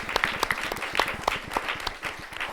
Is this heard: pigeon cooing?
no